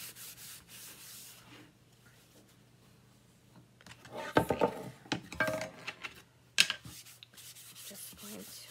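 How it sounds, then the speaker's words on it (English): Chalk paste is rubbed and wiped with a paper towel, making soft, scratchy rubbing strokes that come in short, close bursts between quieter pauses, with no talking during them. "just going to wipe it here just to fill in these little nooks and crannies"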